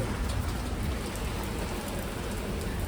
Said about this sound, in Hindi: ओके गाइस बहुत ज़्यादा बारिश होने लग गई थी